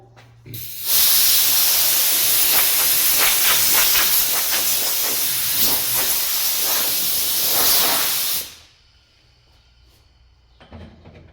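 Compressed air blowing off a scuffed, guide-coated body panel on a Toyota KE70 Corolla during bodywork, a loud steady hiss lasting about seven seconds, then cutting off abruptly to near silence.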